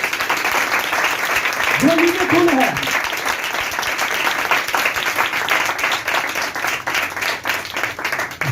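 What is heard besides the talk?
congregation applause in church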